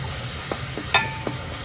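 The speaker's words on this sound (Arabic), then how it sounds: "هنحط البصله طبعا خليها تستوى لحالها، طبعا مع رشه ملح" Onion with a pinch of salt sizzles steadily in a pan, close and fairly loud, with a few soft stirring clicks and one sharper metallic tap midway.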